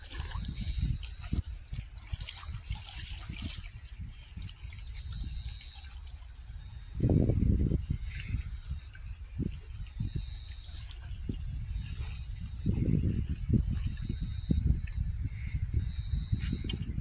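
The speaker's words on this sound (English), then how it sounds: "that water over there is like a waterfall" Water trickles and splashes steadily in the distance like a small waterfall, a soft continuous flow with a few louder surges, heard alone outdoors at night at a beach.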